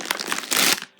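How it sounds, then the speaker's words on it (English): A plastic bag holding a circuit board from a 3D printer kit crinkles close up in a burst of dense, crackling rustles lasting about a second, then stops, with one brief final crinkle. "would be a plastic bag with a circuit board in it."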